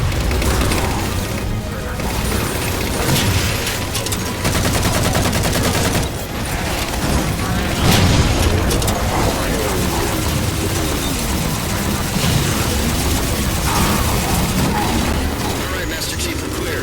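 A railgun fires at Phantom dropships in the video game Halo 4, with repeated booming shots and clattering gunfire in a dense, loud battle mix that runs throughout.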